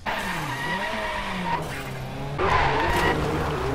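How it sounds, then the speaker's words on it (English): A car drifting in a video game, with loud, sustained tire squeal and skidding over a revving engine, the screech bending in pitch as the slide goes on. "My first time attempting to drift."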